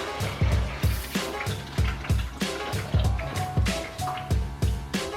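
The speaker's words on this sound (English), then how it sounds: "Get another clear cup, fill it up, and see how much we've diluted the original coolant" BMW E46 323ci engine coolant draining into a clear cup, a series of irregular liquid splashes and gurgling drips, close and moderately quiet, with a few sharper splatters mixed in.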